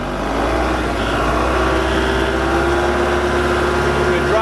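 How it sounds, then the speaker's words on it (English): A Kubota diesel tractor engine with auto throttle idles steadily close by, a constant low drone with a faint whine above it, no change in pace. "You can hear this tractor has auto throttle on it"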